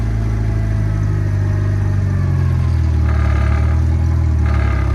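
A car driving ahead with its engine running: a loud, close, continuous low rumble whose pitch shifts slightly, with light rattling on top.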